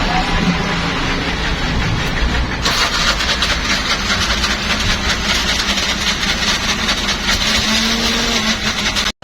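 A CNG auto-rickshaw stalled by floodwater on a rain-flooded road starts up again and keeps running, its engine loud and continuous for about nine seconds.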